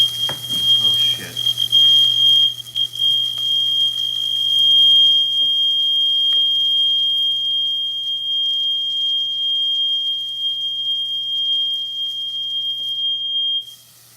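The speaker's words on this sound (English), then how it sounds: "Smoke detector went off." A smoke detector shrieks during cooking with one continuous piercing high tone, loud and close, lasting nearly the whole time before cutting off abruptly, with brief clattering at the start.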